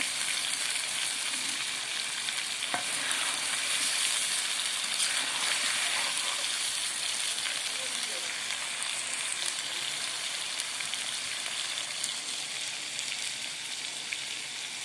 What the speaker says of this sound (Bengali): মুরগির মাংসগুলো আর কি ভাজা হয়ে যাচ্ছে